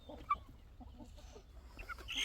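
Backyard chickens in Mexico clucking at close range, with soft intermittent clucks and a sharper call near the start, over low background rumble and a brief rise at the end.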